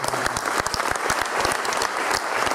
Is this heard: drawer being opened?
no